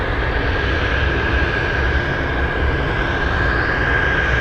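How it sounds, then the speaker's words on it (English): Lockheed L100 Hercules turboprop taxiing toward the runway at Anchorage airport, a steady broad engine roar with a sustained high whine, constant and loud from start to finish with no talk. "We have a Lockheed L100 Hercules heading to the runway."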